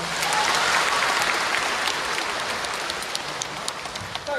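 A theatre audience at a Deyun She crosstalk show in Xiamen applauds a performer in a loud, sustained, dense burst that fades slightly toward the end.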